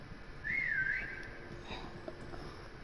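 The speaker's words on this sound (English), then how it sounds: "I heard the whistle." A whistle in Call of Duty Cold War Zombies gives a brief rising-and-falling tone, faint against low game background noise.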